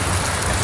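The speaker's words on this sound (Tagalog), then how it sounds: "pumapatak-patak ang ulan guys, mahina-hina" Light rain patters steadily and evenly outdoors during flooding in Cavite, a dense, continuous wash of drops with a faint low rumble beneath and no voices.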